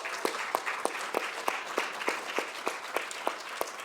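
An audience claps together in steady applause, a dense wash of hand claps with sharper individual claps standing out at a regular rhythm.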